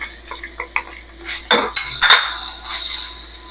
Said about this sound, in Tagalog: Dito naman guys sa kabila, magigisa na ako ng gulay.